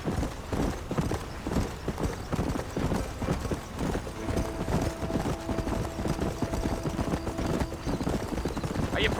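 Galloping horse hooves in Red Dead Redemption, a rapid rhythmic clip-clop running throughout on a dusty ride toward Armadillo, close and steady, with brief character dialogue on top.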